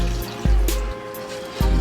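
Water poured into a cooking pot to make beef stock with beef bouillon, a steady close trickle and splash broken by a few dull knocks against the pot.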